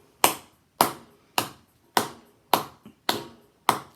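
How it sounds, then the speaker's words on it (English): Seven sharp hand claps at a steady, even beat, close and loud with quick decays and silence between, in a classroom music lesson. "How about a clap?"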